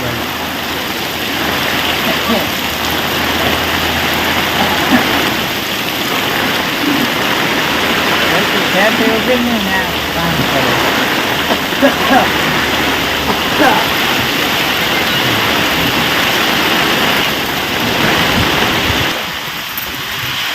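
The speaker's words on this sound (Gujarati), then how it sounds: "ફૂલ જોરદાર વરસાદ પાછો આજે ચાલુ થઈ ગયો છે" Heavy rain driven by strong wind in a Botad village, a dense, steady roar of pouring water that fills the whole stretch without letting up.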